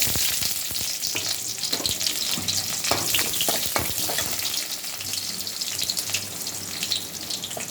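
Chopped onions frying in hot oil in a pan for a Thanjavur green mango pachadi, a loud, dense, continuous crackling sizzle with occasional sharper pops and stirring scrapes throughout.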